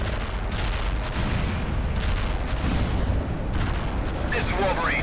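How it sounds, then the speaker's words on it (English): Artillery fire in the video game World in Conflict: a steady barrage of low booms and rumbling blasts runs throughout the clip, loud and dense, with a faint whistling tone near the end. "Artillery firing."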